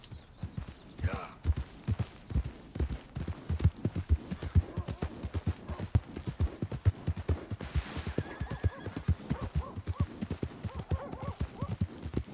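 In the video game Red Dead Redemption 2, hooves clip-clop in a quick, steady rhythm close by, with a horse whinnying partway through.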